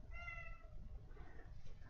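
A pet cat meows indoors, giving a short, faint, tonal mew near the start followed by quieter murmuring sounds against a low background rumble.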